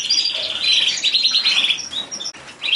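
Canaries of several varieties chirp and trill continuously at a breeder's aviary in La Réunion, a dense, bright chorus of overlapping tweets close by with no talk.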